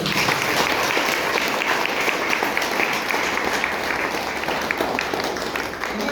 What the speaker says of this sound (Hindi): इनके लिए, अपने लीडर के लिए और अपने लिए बहुत जोरदार ताली हो जाए।